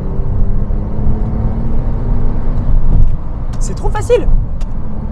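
A Porsche 997 Turbo S engine drones loudly and steadily from inside the cabin while overtaking, with a brief swell in the middle and a person speaking near the end.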